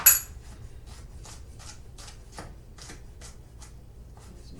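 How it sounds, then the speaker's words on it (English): A kitchen knife minces garlic cloves on a cutting board. Quick, light chopping taps come in an uneven rhythm, close and fairly quiet, after one sharper knock at the start. "See, this is why I like to cut it and mince it myself."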